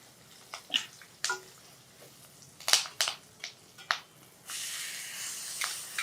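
Green chillies and curry leaves crackle in hot oil: faint, scattered pops and sizzles, then a steady hiss near the end, close and without talk.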